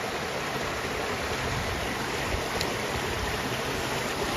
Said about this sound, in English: It's a little loud because of water.